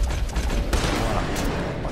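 Gunfire in the western video game Red Dead Redemption 2: a dense, steady roar of shots and rumbling blasts with one sharper crack partway through, loud and continuous with no talking.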